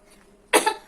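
A choking patient gives a single forceful cough during first-aid instruction for an airway obstruction, one loud burst arriving abruptly after a quiet lead-in.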